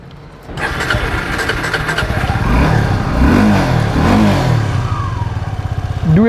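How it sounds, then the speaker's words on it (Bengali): A Suzuki Gixxer 250 motorcycle with a dual barrel exhaust starts up and settles into a loud, steady idle with brief revs, heard up close and alone. "ডুয়েল ব্যারেল এক্সজস্টের সাউন্ডটা আগের থেকে বেটার লাগতেছে আমার কাছে।"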